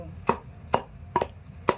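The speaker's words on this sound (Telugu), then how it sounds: "ఇలా గోంగూరని ఇలా దంచుకోవాలండి" Four sharp, heavy thuds land at a steady slow rhythm, close and solid, a pestle pounding sorrel leaves in a stone mortar, with nothing else audible.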